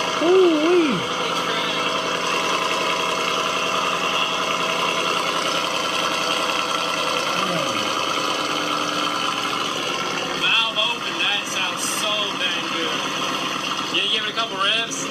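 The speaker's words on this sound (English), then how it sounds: "Cold start is freaking aggressive." A car engine idles after an aggressive cold start, a steady mid-pitched hum that holds throughout with slight fluctuations, while someone talks over it.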